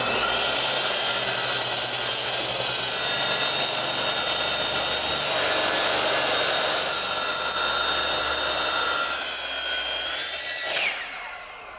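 A saw cuts 3.5-inch wide joist pieces for a greenhouse floor foundation, giving a continuous, close, even rasping buzz that holds steady for about eleven seconds before tapering off.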